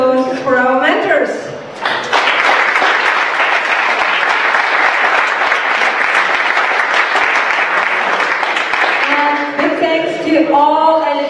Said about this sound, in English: Also applause for our mentors.